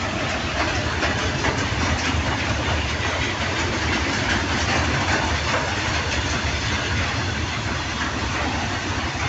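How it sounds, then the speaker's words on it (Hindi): A train engine idles with a steady, dense rumble, two trains joined together into one long consist, the noise constant and close with no voices over it. "ये देखिए 2-2 ट्रेन एक में जुड़ी हुई है"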